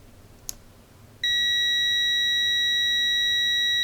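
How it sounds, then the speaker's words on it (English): A steady, loud continuity beep from an ANENG M107 budget digital multimeter starts about a third of the way in and holds unbroken to the end, preceded by a brief click of the probes touching. "I'm gonna test the continuity."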